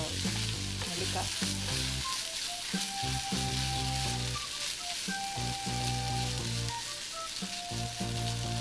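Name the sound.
gooseberry thokku sizzling while cooking in a pan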